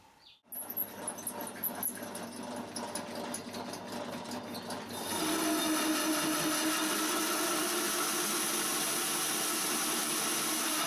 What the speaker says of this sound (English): I'm going to drill all the holes for the mounting screws for this back plate